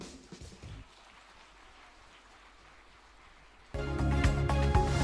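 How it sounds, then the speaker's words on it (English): Audience applause at the opening ceremony of the European Girls' Mathematical Olympiad 2019 in Ukraine, with faint clapping at first, then a loud, dense burst of applause swelling from a large hall crowd near the end. "Give a huge round of applause to each other!"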